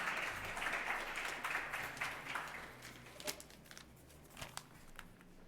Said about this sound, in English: Everybody, please give a round of applause for Consul General Bartoli.